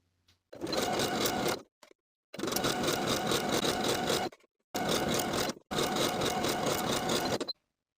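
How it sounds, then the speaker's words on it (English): A sewing machine stitches a hoodie's side and underarm seam in one continuous run, sounding as four loud, close bursts of rapid whirring separated by short pauses. "Sew the side seam and underarm seam with a 3/8 inch seam allowance in one continuous stitch"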